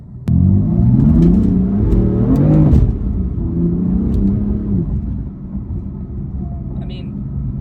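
A car with a dual-clutch (DCT) transmission accelerates hard, the engine note climbing steadily before dropping sharply at a quick gear change, then pulling on at a lower pitch, with a voice talking over it.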